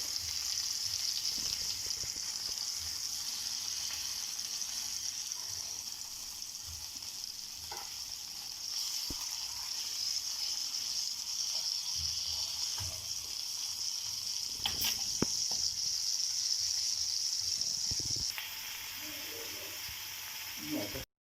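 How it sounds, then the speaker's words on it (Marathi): Tandoori chicken pieces fry and sizzle in a pan, a steady crackling hiss broken by scattered stirring and turning clatters, fairly close, with no talking. "दुसऱ्या बाजूने आपल्याला असे परतून घ्यायचे आहेत आणि तसेच आपल्याला फ्राय करून घ्यायचे आहेत."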